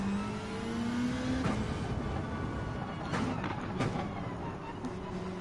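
Two Ford rally cars, a Ford Focus and a Mustang, race in Gran Turismo 7 with a steady engine drone and rising revs, punctuated by a few brief sharper bursts throughout.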